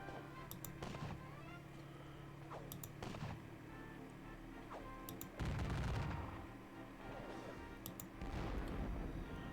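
Artillery fire at a gun battery in a Battle of Waterloo strategy game, heard as several sharp cannon reports and booming blasts spaced irregularly over a continuous rumbling battlefield background.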